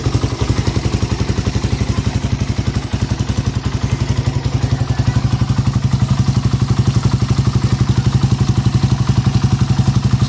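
A freshly rebuilt Suzuki Raider 180cc carbureted motorcycle with a ported and polished head and stock cam runs steadily nearby, a loud, even rapid thumping idle with a slight blip around three seconds.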